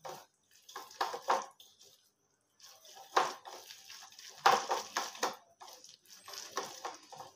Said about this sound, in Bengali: ডালটা ভালো করে ফেটিয়ে নেব।